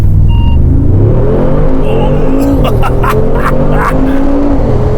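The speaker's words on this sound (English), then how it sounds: "Full acceleration, and at my line you will do a full braking." A Mercedes G63 accelerating flat out on a test track: a loud, steady engine roar rising in pitch through the gears, with brief intake and exhaust bursts partway through, heard close from inside the vehicle.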